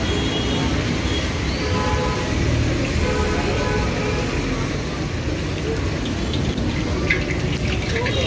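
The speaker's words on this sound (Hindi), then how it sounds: "अब आया, अब भी बारिश हो गई।" Steady rain pours onto a street outside a small Indian snack shop serving lassi and chole bhature, a dense, continuous hiss with a low traffic rumble underneath.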